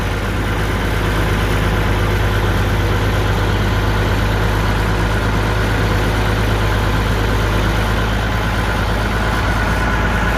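Farm tractor engine runs at a steady, loud, close-up drone with a deep low rumble and constant mechanical chatter, and no voices.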